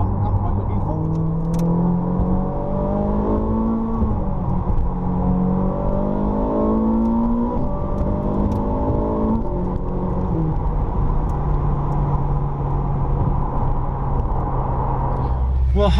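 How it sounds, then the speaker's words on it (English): A Ferrari sports car, Speciale or California T, drives on damp country lanes near Midhurst, a loud steady engine drone with rising and falling rev sweeps heard from inside, under continuous talk. "we've come down to Midhurst to give the car a run through the country lanes."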